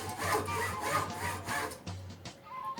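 A hand saw cutting through a small wooden block for building a fife, brisk back-and-forth strokes at a steady rhythm, close and fairly quiet, ending in a few short final strokes.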